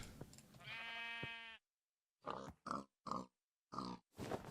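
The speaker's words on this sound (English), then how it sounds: "there's another white sheep around here somewhere" Blocky Minecraft sheep bleat in a video game, a long wavering cry followed by a string of four or five short, clipped bleats separated by silence, close and clear.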